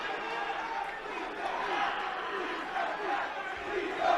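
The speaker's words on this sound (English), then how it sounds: "This crowd imploring Davey Richards, please don't tap" Crowd at a Ring of Honor wrestling title match chanting and shouting as Davey Richards is held in a Boston Crab, a dense continuous roar filling the arena under a commentator's voice.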